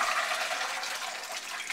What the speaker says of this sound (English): Pour them right out into a strainer.